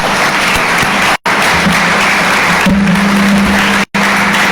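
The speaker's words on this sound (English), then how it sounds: "How about a big round of applause?" A large audience at a guide dog graduation ceremony gives loud, sustained applause, dense and continuous, with a couple of abrupt dropouts.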